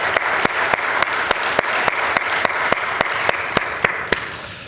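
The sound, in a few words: applause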